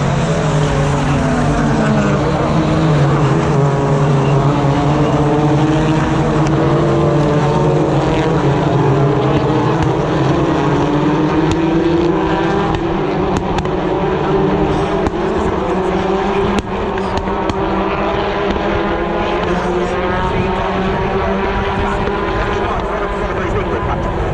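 BTCC touring cars, including Ford Focus and Honda entries, racing at Thruxton in 2022 as they approach the complex; a loud, continuous engine roar with shifting pitch that fills the whole stretch without a break.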